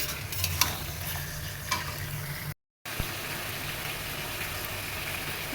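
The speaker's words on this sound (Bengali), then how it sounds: "পেঁয়াজটা ভাজা ভাজা হয়ে গেলে মাংসটা দিয়ে দেবো ভালো করে" Onions frying in a kadai with whole spices and bay leaf, a continuous close sizzle with a few sharper stirring scrapes and a low background hum, briefly cut by a short gap of silence.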